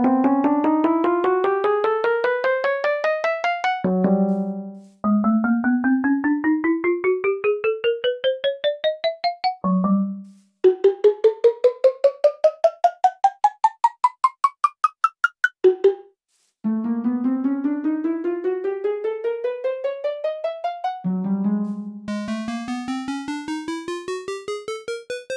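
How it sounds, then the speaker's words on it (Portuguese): Minecraft Java Edition note blocks play a series of clean, plucked notes that climb steadily in pitch, run by run. Short low tones mark each change of instrument, and no one speaks. "eu vou ficar em silêncio aqui para mostrar todas as notas para ficar mais simples de vocês escutarem"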